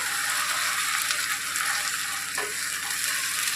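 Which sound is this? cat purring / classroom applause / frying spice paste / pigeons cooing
frying spice paste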